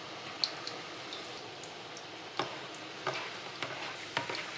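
Egg cake batter frying in oil in a pan, a soft steady sizzle and bubbling close by with a few small taps and clicks of a utensil scattered through.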